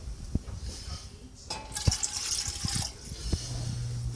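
Water poured from a measuring cup into a cooking pot, the third cup for steel cut oats, giving a splashy, trickling pour of about a second and a half at close range amid brief kitchen knocks.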